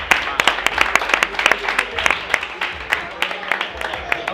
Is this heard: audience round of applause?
yes